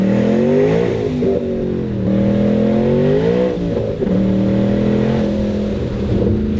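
A 900 hp twin-turbo Ford Mustang Boss 302 with a live rear axle is being driven hard. The close, loud engine drones and revs, its pitch rising and falling steadily, with no talking.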